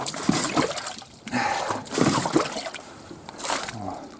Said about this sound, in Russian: Опять пошел дождь. Усиливается.